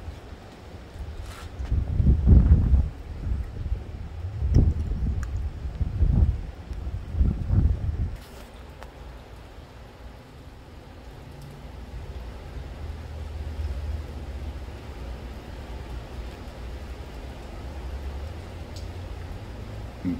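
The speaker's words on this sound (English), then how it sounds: "More wind." Gusting wind from Hurricane Hilary buffets the microphone, with several strong low roaring bursts early on, then a steadier, softer rushing blow that carries on to the end.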